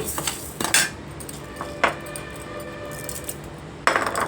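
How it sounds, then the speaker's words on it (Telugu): Horse gram roasting dry in a pan on a stove for Andhra-style ulava sambar, with scattered metallic scrapes and clinks of a spoon against the pan over a low background. "ఉలవలు బాగా వేయించుకోవాలి"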